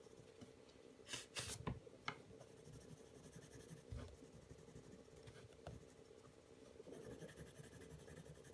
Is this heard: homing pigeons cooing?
no